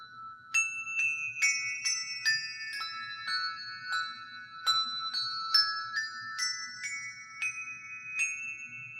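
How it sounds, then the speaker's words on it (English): Handbells rung six-in-hand by one ringer, a clear sequence of bright, ringing strikes in a steady rhythm, each tone overlapping as it decays, with no talking. "The next bell down rings forward. And then the thumb bell rings back."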